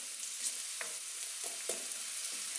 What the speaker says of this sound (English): So we're going to fry these off a little bit and then add the onions in on top.